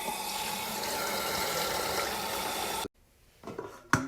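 Tap water runs steadily into a dog's water bowl, a close, even hiss and splash lasting a few seconds before it cuts off abruptly, followed by faint clinks and handling sounds.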